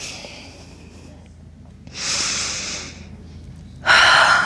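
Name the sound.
breathing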